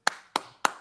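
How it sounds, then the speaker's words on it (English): Three sharp, evenly spaced slapping claps from a soundboard booty-clapping effect, each a crisp smack with a short fading tail, loud and close with no talk. "Booty clapping sounds"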